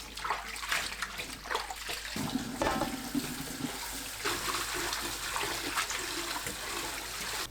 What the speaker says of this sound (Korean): 잎도 깨끗하게 여러 번 헹궈 체에 받쳐두세요.